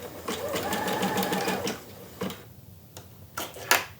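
An embroidery sewing machine stitching a design on a fabric tote bag, running with a steady rapid mechanical chatter for about two seconds, then stopping with a few separate clicks and taps, close up.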